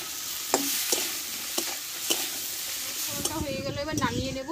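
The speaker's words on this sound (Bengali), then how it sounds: "ভালো করে নাড়তে থাকবো" Drumstick flowers stirred in a cooking pan, a spoon scraping with soft sizzling under it, a few distinct scrapes early and busier clattering near the end; a faint voice murmurs in the background.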